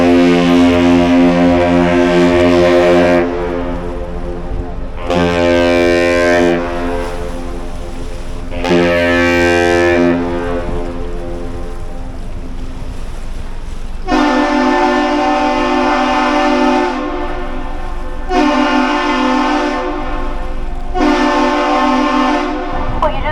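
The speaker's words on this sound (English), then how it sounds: "the Captain's Salute, one long blast of the horn followed by two short ones" The Great Lakes freighter Paul R Tregurtha sounds a deep, loud horn as it leaves Duluth, giving one long blast followed by two shorter ones, and then the same pattern again, with steady background rumble between the blasts.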